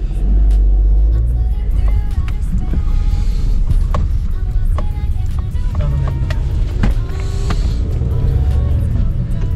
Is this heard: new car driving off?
yes